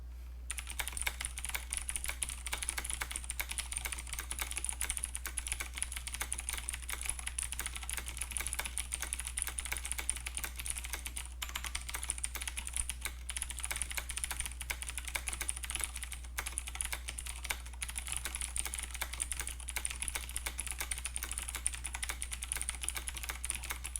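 Continuous fast typing on a clicky keyboard with Cherry MX Blue switches and blank keycaps, a steady dense stream of light clicks over a constant low hum.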